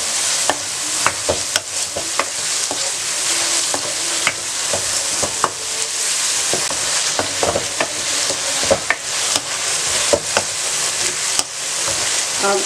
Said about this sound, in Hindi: सारी चीज़ों को दोबारा चंद सेकंड के लिए फ्राई करें।